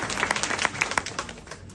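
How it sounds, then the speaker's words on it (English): A brief burst of audience clapping at a Rotary presidential installation, scattered and moderately faint, fading out after a couple of seconds. "That's the party clap"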